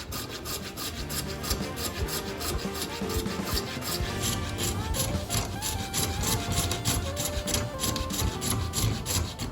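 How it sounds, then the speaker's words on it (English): Steady rasping strokes of a modified reciprocating saw blade cutting a slot into wood for a knife tang, repeating in a quick, even rhythm, close up and with no talking. "I use a modified reciprocating saw blade to open up a slot for the tang"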